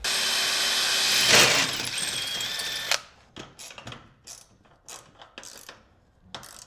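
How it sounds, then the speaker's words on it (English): A power drill whirs steadily for about three seconds, drilling a hole in a tender frame rail for a live steam engine, then stops, followed by scattered clicks and light knocks of tools being handled. "So I'll come in and drill one hole."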